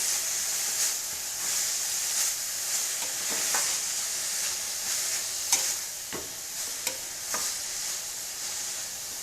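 A spoon stirs and mixes a village-style leafy vegetable bhaji of amaranth or cowpea greens in a pan, with steady sizzling and frying hiss throughout and a few sharp scraping knocks against the pan.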